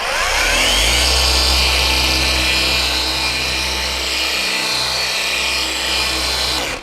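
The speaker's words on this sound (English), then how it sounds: "we'll do a crisscross pattern, just the weight of the polisher as pressure, and in between the 3rd and the 4th speed setting." Dual-action paint polisher running between its third and fourth speed settings, buffing compound on a car's paint test area in a crisscross pattern, producing a loud, steady, close motor whir with a slight wobble throughout.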